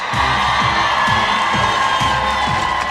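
A large outdoor crowd in Vilnius town hall square welcomes a Lithuanian national basketball player, sustained loud cheering and whooping with shouts rising repeatedly over steady applause.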